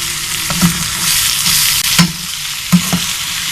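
Mash daal being stirred and fried in a pan, a steady close hiss of sizzling oil broken by several clinks and scrapes of the spoon against the pan.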